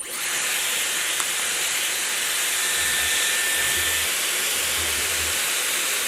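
A Dyson Airwrap hair styler blows air in a loud, steady broadband whoosh that holds constant for several seconds, close up with no talking.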